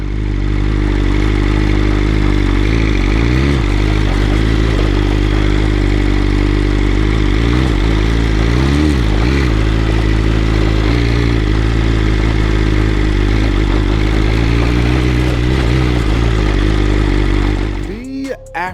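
A BMW M 1000 RR superbike rides through woods, its engine droning steadily and loud throughout with rising and falling pitch as the throttle changes, plus some rattling and scraping, ending abruptly.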